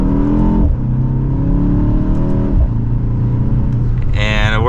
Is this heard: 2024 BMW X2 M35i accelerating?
yes